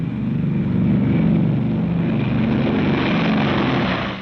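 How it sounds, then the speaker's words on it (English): Four-engine bomber planes taking off in 1945, a loud, steady multi-engine propeller drone that swells and holds close throughout with no talk. "The 314th is airborne. 145 planes, 1 minute apart, 67 tons each."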